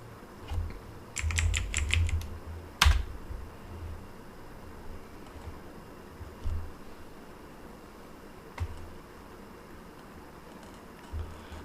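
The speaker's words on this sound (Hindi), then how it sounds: "इसे देखने के लिए बस टाइप करें होस्ट।" Keys on a computer keyboard are tapped as a command is typed: a quick burst of clicks, a sharper keystroke, then a few scattered isolated taps, close and fairly quiet.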